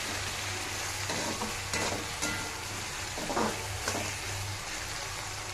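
Onions and vegetables fry in a pan with salt, a steady close sizzle broken by several scraping stirs of a utensil against the metal, with a low hum underneath throughout.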